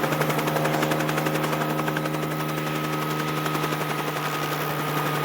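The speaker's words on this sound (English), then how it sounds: "Except explosions. Lots of explosions." Explosions in the visual novel Root Double rumble as a dense, continuous barrage of low booms and rapid crackling bursts, steady and loud throughout with no pauses.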